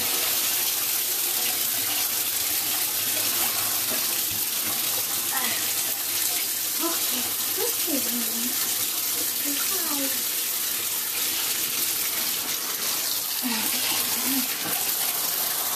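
Tap water runs in a steady, close hiss during a puppy's bath, continuous throughout with faint squeaks and splashes, and a voice talks softly over it.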